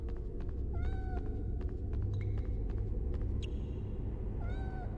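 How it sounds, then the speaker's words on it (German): A kitten in a Harry Potter video game gives several short, high meows, close and clear over a low rumbling ambient background. "Kleines Kätzchen."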